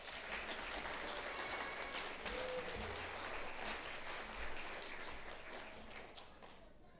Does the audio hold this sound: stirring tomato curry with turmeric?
no